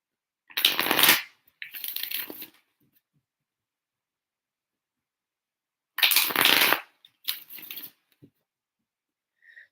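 Fairy oracle cards being shuffled in two pairs of bursts, each a quick riffle followed by a shorter one, close and crisp with silence between them.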